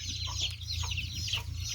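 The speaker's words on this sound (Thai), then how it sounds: "ไก่เลี้ยงพันเลี้ยงทางขาวครับผมนี่แหละ" Thai white-tailed chickens cluck close by in short, repeated bursts over a steady low background hum, with no talking.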